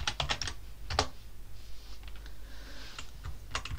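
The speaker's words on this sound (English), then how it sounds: "And I am going to type sudo nano boot" Rapid typing on a computer keyboard while entering a command on a Raspberry Pi, with bursts of close, crisp key clicks separated by brief pauses and no speech.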